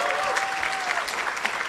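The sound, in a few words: applause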